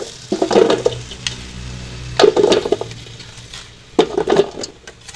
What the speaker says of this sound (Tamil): இப்ப நாங்கள் உருளைக்கிழங்கு இதுக்குள்ள போட்டு பொரிக்க போறோம்.